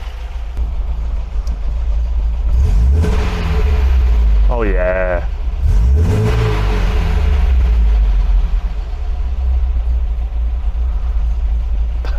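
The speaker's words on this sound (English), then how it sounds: "Let's just flip the throttle and see how it sounds." An MGB's engine idles steadily nearby, with a couple of short throttle blips rising and falling in pitch, and a brief voice heard over it.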